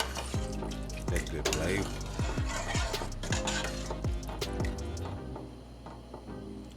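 Chicken broth pours into a pot of leftover turkey soup with a steady liquid splash, while a voice talks over it and a tonal background runs underneath.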